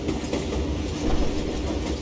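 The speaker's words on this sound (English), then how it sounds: "It was definitely safer on the inside of the train." A moving train in the Western game Call of Juarez Gunslinger rumbles steadily with a rhythmic clickety-clack of wheels on rails, heard close and fairly loud from on board, with no voices.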